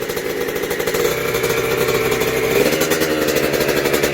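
A Yamaha YZ65 dirt bike engine with a freshly rebuilt top end idles with a rapid, steady two-stroke putter close by, rising slightly partway through.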